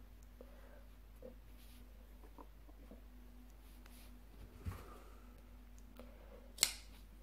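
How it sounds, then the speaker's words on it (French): Scissors cut through yarn, faint close snips with small clicks scattered over a quiet background, ending in one sharper, louder snip. "On coupe le fil."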